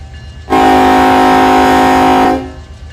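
A train horn sounds at a level crossing in the Run 8 Train Simulator video game, one long loud sustained chord blast of about two seconds with a sharp start and clean cutoff.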